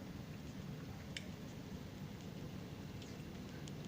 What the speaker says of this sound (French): Je vous montre la pluie.